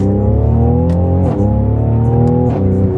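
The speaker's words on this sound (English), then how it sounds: "Twin turbo engine scream." A twin-turbo car engine revs hard in a loud, close, sustained roar that holds its pitch and climbs slightly, with no voices over it.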